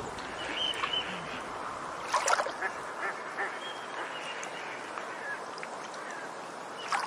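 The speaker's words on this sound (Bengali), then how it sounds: "সেই রাতে বুনো বালি হাঁসের দল জলে নামলো" A flock of wild lesser whistling ducks landing on water gives scattered quacks and honks, faint and irregular, over a steady watery background hiss.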